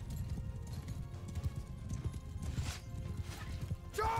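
Horses clip-clop at a rapid gallop in a Viking-era battle video game, hooves pounding steadily and close under a busy combat din, with a brief whinny near the end.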